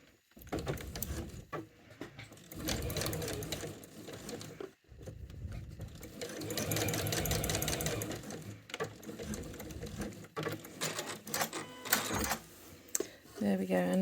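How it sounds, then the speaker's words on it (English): A domestic sewing machine runs in bursts as it stitches back over the overlapped piping join on a cushion cover, its steady mechanical whirr close and clear, pausing between runs, with a person talking over parts of it. "So back at my sewing machine, and here's the join where I overlap the two pipings together."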